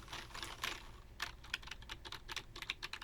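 Typing on a Furycube IP98 membrane keyboard: a steady run of soft, muted keystrokes with uneven rhythm and occasional clustered taps, fairly close and quiet, with no talking.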